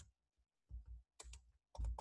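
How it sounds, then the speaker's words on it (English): Brief, quiet bursts of keystrokes on a computer keyboard come in a few separate clusters of clicks, with short silent pauses between them. "Oh, if I type"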